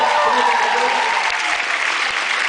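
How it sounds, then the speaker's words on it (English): Loud, steady applause from a convention panel crowd fills the whole stretch, with dense clapping and a voice faintly audible underneath. "Ladies and gentlemen, big round of applause."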